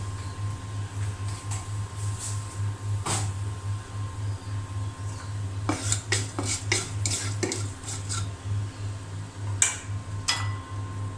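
Panch phoron spices go into hot oil in a pan and are stirred, with sharp clinks and scrapes of a utensil against the metal over a faint sizzle, in scattered bursts.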